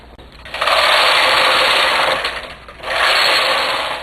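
A knitting machine's carriage sweeps across fisherman rib rows in two long, loud whooshing passes with a brief pause between them, close and alone with no talk.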